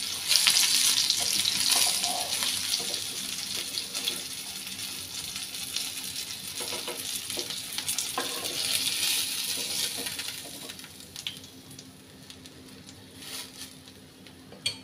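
Goan-style stuffed mackerel fries in a pan with a steady, close sizzle and hiss that holds throughout and fades slightly toward the end, with no talk.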